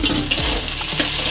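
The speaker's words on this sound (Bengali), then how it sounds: "তেলের মধ্যে দিয়ে দিলাম পেঁয়াজ লঙ্কা কুচি" Chopped onion, chilli and tomato fry in hot oil with a close, hissing sizzle, broken by a couple of quick clinks and scrapes of a utensil against the pan; brief, with no talking.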